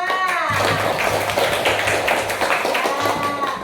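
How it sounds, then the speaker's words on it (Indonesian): Students in a classroom applaud the second group, quick scattered hand claps at a steady level under a background hum, with voices faintly present. "tepuk tangan untuk kelompok 2"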